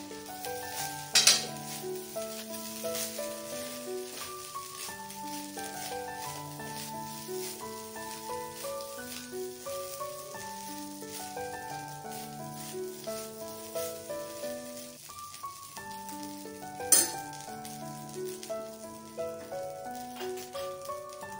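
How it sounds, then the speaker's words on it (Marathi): Schezwan fried rice sizzles and is stirred in a hot pan, a steady frying hiss with scraping and a couple of clinks from the utensil, while background music plays. "थोडंसं आपण हलवून घेऊया"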